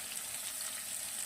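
Fish pieces frying in hot oil, a steady, soft hiss and crackle that holds evenly throughout without any talk.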